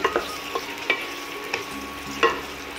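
Washed chicken pieces are mixed with turmeric and salt, giving a few scattered wet squelches and clicks against the bowl over a quiet background.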